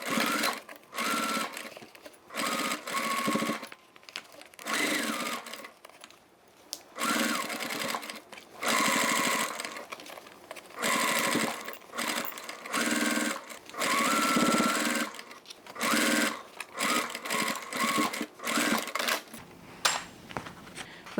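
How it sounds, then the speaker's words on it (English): A sewing machine stitches around the top edge of a fabric toiletry bag in close, loud bursts of rapid needle clatter, stopping and starting repeatedly with short pauses between runs. "Now we can sew around the top edge here, but remember we need to leave one side open"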